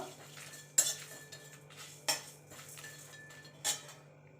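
Coriander and cumin seeds are dry-roasted in a pan while a utensil stirs them. Three sharp metallic clinks and scrapes land at spaced intervals over a faint, steady background hiss, with no talk.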